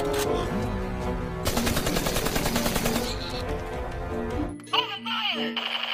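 A Minecraft-style gun in a mobile game, firing a loud, rapid burst of shots close up, followed by a short chime and game tones as it stops.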